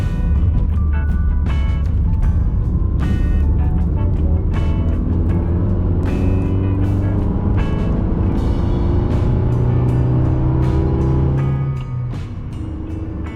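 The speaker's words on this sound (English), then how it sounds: "I've got the 3S GE engine that produces about 30 more horsepower than the naturally aspirated engine sold in the US market" A Toyota MR2 with a 3S-GE engine drives with a loud, steady engine drone whose pitch climbs through the gears as it accelerates, with no talking.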